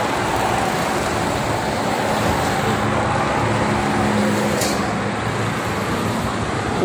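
Buses and cars stream past on the Jakarta–Cikampek toll road near km 57, a loud constant roar of passing traffic with one brief sharp tick midway.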